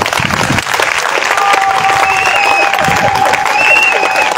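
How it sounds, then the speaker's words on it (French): Loud crowd applause for the men at a Father's Day gathering, dense continuous clapping with some cheering and whistles mixed in. "Applaudissez les hommes."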